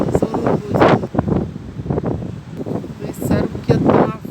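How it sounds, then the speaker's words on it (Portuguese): Strong gale during a rainstorm buffets a hand-held phone microphone in bursts, the wind rumble rising and falling under a person talking. "eu não tô nem conseguindo segurar o celular, tá muito forte o vento"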